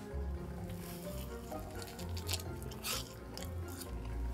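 Someone bites into and chews an original soft pretzel from Wetzel's Pretzels, giving close, moist crunching and squishing mouth sounds in a steady run over several seconds, with no talk.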